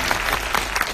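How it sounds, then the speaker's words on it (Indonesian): A brief burst of audience applause at an Indonesian film premiere with the national police public relations division, dense clapping filling the short moment, loud and close with no talk. "Tepuk tangan dong."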